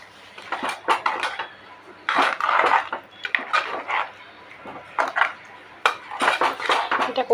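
A metal spoon scrapes and knocks against a pan while jaggery is stirred in with cashews and other ingredients, the clatter coming in repeated bursts of clinks and scrapes, close up.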